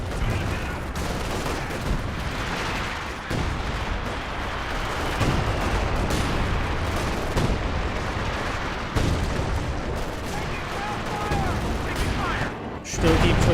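Artillery fire in the Company of Heroes 2 battle game: continuous heavy booms and gunfire, with repeated loud impacts over a dense rumbling battlefield din, with a commentator talking over it.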